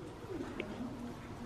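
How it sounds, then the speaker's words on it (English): Pigeon or dove cooing outdoors: a few soft, low, throaty coos repeated over a steady background hum, faint and somewhat distant, with no one talking over it. "There's a bird up there."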